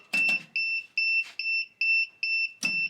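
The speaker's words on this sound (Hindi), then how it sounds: "अलार्म बजा जी, क्या हुआ है चेक करें ज़रा।" An electronic alarm on a masala packing machine beeps in a steady repeating pattern, seven high tones about half a second apart, with brief rustling and clatter under it.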